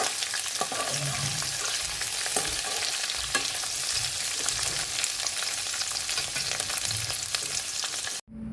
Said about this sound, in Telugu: కడాయిలో ఆయిల్ వేసి వేడయ్యాక క్యాప్సికమ్, ఉల్లిపాయ ముక్కలు వేసి వేయించుకోవాలి.